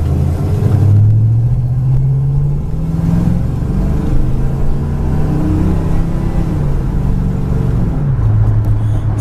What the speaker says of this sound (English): The exhaust sounds really nice.